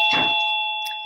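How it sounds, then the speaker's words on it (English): A home doorbell chimes once, a bright sustained two-tone ring that rings out and slowly fades over about a second, heard alone with no talking. "that was my doorbell."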